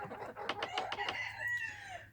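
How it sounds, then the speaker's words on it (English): A white cockerel on a farm gives a quick series of clucks that run into a short crow, fairly faint and alone. "There's a nice white cockerel there,"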